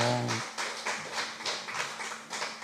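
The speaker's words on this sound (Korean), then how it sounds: "박수." A church congregation applauding during a Friday worship service, heard as evenly spaced, rhythmic bursts of clapping, with a short voice at the start.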